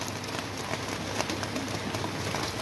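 Heavy rain pours outside a kitchen in Qatar, a dense, constant hiss of drops with light patters, heard close and loud throughout.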